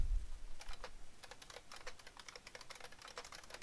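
Fingers type on a computer keyboard while adding content to a WordPress website, producing a quick, close, steady patter of key clicks with brief irregular pauses.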